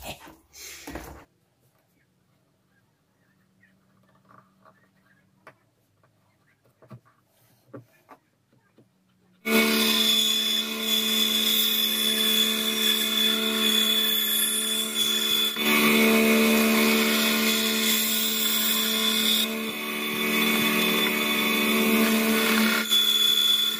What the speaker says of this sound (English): Gotta love a bandsaw.